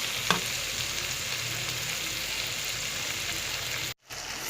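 Gravy masala frying in ghee gives a steady, loud, dense sizzle that runs almost throughout, with a brief clink early on and a sudden short gap near the end.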